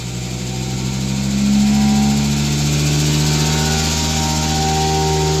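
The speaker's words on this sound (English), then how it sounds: "Engine's running as always, PTO's running. Vent valve closed. Vacuum on. Turn the revs up." Septic tanker engine revving up with the PTO-driven vacuum pump running, a loud, steady mechanical drone with tonal whine that rises in pitch and intensity partway through and holds there.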